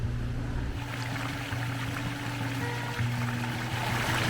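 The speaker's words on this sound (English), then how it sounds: "Love the sound of that rushing water." Rushing water at Bushkill Falls waterfall, a steady, dense broadband roar that continues throughout, loud and close, with a low rumbling undertone and no talk.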